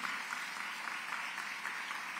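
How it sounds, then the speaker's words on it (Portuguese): A church audience applauds at a Catholic gathering, a steady, moderately distant patter of clapping hands that continues evenly with no voices over it. "Vamos aplaudir essas pessoas que prepararam"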